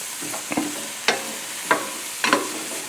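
Vegetables for a broccoli and celery soup sweat in a pot as a utensil stirs them, giving four distinct scraping clacks spaced about half a second apart over a faint, soft sizzle.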